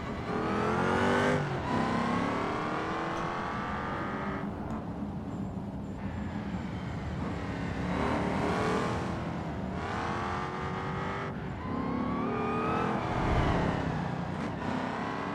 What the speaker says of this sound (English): Hearing that supercharger whine coming to the first hairpin